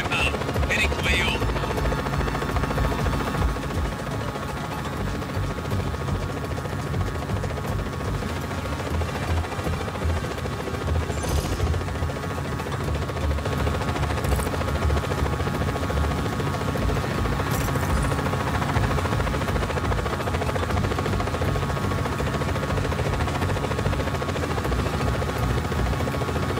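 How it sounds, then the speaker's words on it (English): A helicopter in the video game Just Cause 4 flies close by, giving a loud steady rotor thrum and buzz that lasts throughout, with a few faint game effects over it. "Helicopter inbound."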